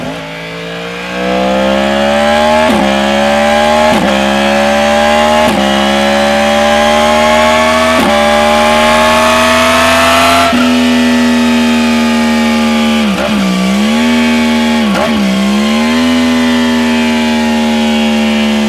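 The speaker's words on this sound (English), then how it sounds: "this crossplane crankshaft is so famous is because of the exhaust note" Crossplane-crankshaft inline-four motorcycle exhaust running loud and steady up close, with sharp revs climbing and falling over a gravelly, uneven-firing drone, plus a few quick throttle blips near the end.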